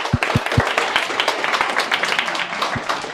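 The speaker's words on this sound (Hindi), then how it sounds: "तालियां हो जाएं।" An audience at a classroom-style physics coaching event claps in a lively, uneven burst of applause, with a few sharp close claps standing out over the steady patter.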